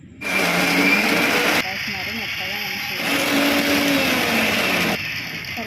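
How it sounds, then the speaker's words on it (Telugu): A mixer grinder blitzes sesame seeds with green chillies for avakaya pickle, a loud whirring motor running in bursts with brief changes in pitch as the jar is pulsed, while a person talks over it. "వాటిని కూడా మిక్సీ పెడుతున్నారు చూడండి పచ్చిమిరపకాయలతో పెడుతున్నాం"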